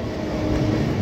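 A train rumbles loudly and steadily in the yard at Danapur station on Indian Railways near Patna, a close, dense low roar with no voices.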